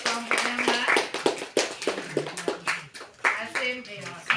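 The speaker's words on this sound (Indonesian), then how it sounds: "Tepuk tangan dulu buat kelompoknya" Students in a classroom clap for a group, sharp uneven hand claps in a loose rhythm mixed with talking and voices throughout.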